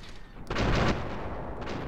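Gunfire in Fallout 3, one sharp loud report followed by a sustained burst of shots that fades into a rumbling tail; no one speaks.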